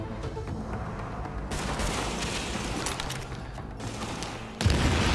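Sustained gunfire and a grenade explosion in the video game Tom Clancy's The Division, set in the Lincoln Tunnel: a dense, continuous rattle of shots fills the whole stretch, with a heavier boom landing near the end.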